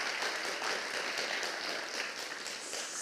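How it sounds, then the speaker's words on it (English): A conference audience in an auditorium gives a warm round of applause, an even, fairly soft patter of many hands clapping steadily throughout. "let's give him another warm round of applause"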